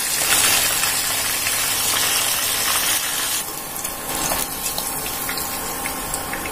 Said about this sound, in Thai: เราทอดจนเหลืองกรอบนะคะกุ้งก็จะสุกง่ายค่ะเราก็จะทอดต่อไปจนหมดเลยค่ะ